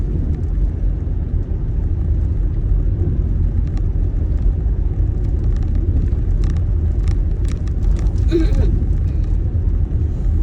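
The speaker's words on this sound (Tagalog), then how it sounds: "Masasanay ka talaga mag-drive kasi hindi pwedeng hindi" A car drives along a snow-covered road on a snowy day, producing a loud, steady low rumble of engine and tyres from inside the cabin, with a voice speaking over it.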